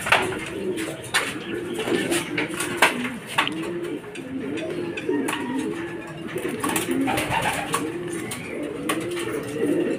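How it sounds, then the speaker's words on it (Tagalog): Racing pigeons arriving at a loft coo repeatedly in soft, overlapping throaty calls, with scattered wing flutters and light background noise. "Ayan na mga kalapatids si Lasari"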